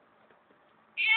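Cat meowing while giving birth, a single loud, strained meow breaking out abruptly at the end after near silence, close by.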